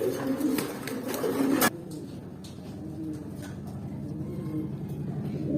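Soft pigeon cooing murmurs low and steady, with a brief louder burst of noise near the start and faint traffic hum in the background.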